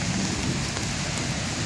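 Steady rain falls outdoors while someone walks through it, a continuous broadband hiss of drops on surfaces that stays even and fairly close throughout, with no voices.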